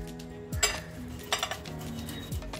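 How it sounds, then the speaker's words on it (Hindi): Four boiled potatoes are grated by hand in a kitchen, with a few short, close scraping strokes spaced about a second apart over a faint background hum. "इनको हमें ग्रेट कर लेना।"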